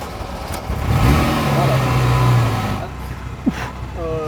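A Ferrari 328 GTS engine revs under acceleration, a rising mid-pitched drone that swells and then eases off, heard close over steady background noise, with people talking.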